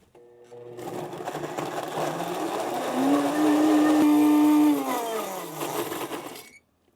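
A blender purees roasted sweet potato for ice cream, its motor whining up to a loud, steady high pitch, holding there, then winding down to a stop, with no talk.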